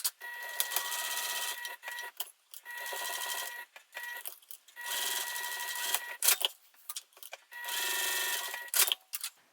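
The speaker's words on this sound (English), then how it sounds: "I am going to top stitch around the top and the sides, and then I'll baste that bottom closed." Sewing machine top stitching around the top and sides of a fabric bag panel, running in several sustained bursts with short pauses between them, close and steady with no talking.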